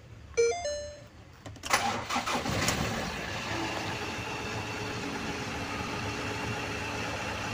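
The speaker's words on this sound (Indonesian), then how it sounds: "Saya kontak on, saya starter ya, tes starter." A Ford Ranger T6 engine cranks briefly with the starter, catches with a loud burst, then settles into a steady, fairly quiet idle close by, with no talk.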